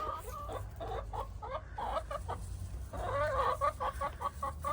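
Chickens on a farm clucking repeatedly in a busy, overlapping chorus, with bursts of squawking that rise and fall close by.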